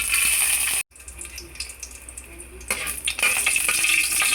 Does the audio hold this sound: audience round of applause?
no